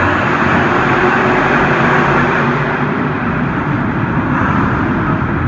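Monster trucks Nitro Menace and Jester race at a Monster Jam arena show in San Antonio, their engines making a loud, dense, continuous roar that fills the arena, with no clear talk.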